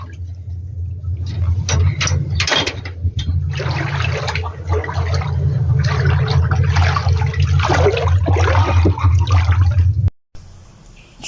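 Floodwater from the overflowing Bashik river rushes loudly and steadily, a dense churning roar with low rumble close by, cutting off abruptly near the end.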